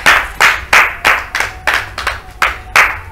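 A church congregation clapping together in steady unison, about eight loud, sharp bursts of claps in an even rhythm, close and filling the room, with no voices over them.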